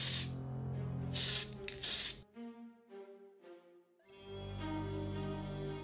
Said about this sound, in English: we're gonna spray this, and it's silver